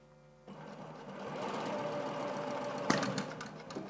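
An industrial 670/680 sewing machine starts up from quiet and runs with a steady mechanical whir, then gives a sharp, distinct click near the end as its functions switch on.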